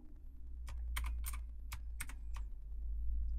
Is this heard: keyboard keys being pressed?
yes